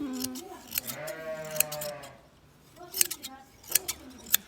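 Sheep bleat close by on a village farm, with a couple of drawn-out wavering calls and a few shorter ones, mixed with rustling and clinking noises and people talking nearby.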